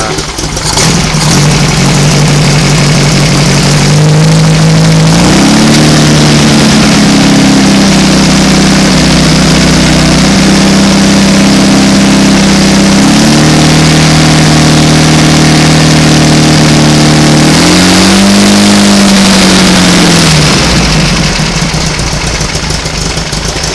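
A loud, lumpy stroker engine on a run stand, not warmed up, idles roughly, then revs up and settles back down a few times, steady and close throughout.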